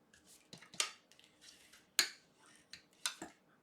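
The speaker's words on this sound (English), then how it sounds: "So I'm going to fold my card base in half." A paper card base being folded in half, giving a few sharp, close creasing snaps and crisp rustles spaced across a quiet moment, with no talking.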